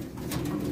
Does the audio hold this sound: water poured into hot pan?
no